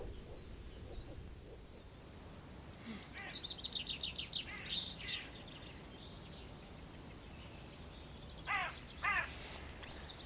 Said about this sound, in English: Finally, I get a crow on the ground.